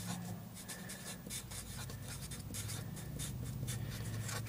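Pen or marker writing by hand on paper or a board during a probability review, a steady scratchy rubbing that runs continuously and close, with no talk over it.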